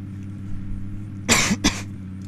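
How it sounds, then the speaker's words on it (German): Two loud, close coughs in quick succession from a man playing a computer game, set over a steady low electrical hum. "Sorry, dass ich die ganze Zeit huste, aber ich habe etwas Husten."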